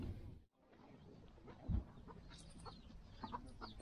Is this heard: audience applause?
no